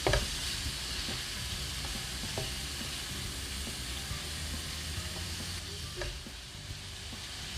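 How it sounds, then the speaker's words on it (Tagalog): Pork sautéing in a pan for Filipino adobong puti, a steady close sizzle and hiss with occasional light clicks of stirring, continuous and fairly quiet. "igisa lang muna natin siya ng mga around 3 to 5 minutes bago natin ilagay yung water"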